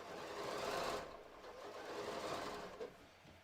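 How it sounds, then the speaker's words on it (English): Sewing machine stitching across the intersecting inseams of yoga pants, a steady fast whirring run that eases slightly midway and then continues, fairly quiet and close. "as I come to the intersection of my inseams, I'm just going to stitch straight across"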